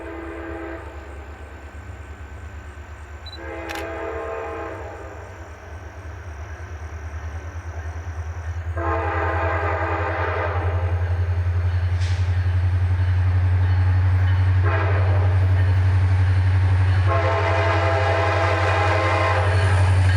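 CSX local freight train A766 on the Deland Branch sounds its horn in several long blasts while a deep engine rumble builds and grows louder as it approaches and passes.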